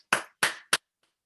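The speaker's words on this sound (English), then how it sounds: "Big round of applause, please." Three short separate bursts of clapping at a district conference candidates showcase, each a sharp broadband smack fading quickly, the last one briefest, followed by silence.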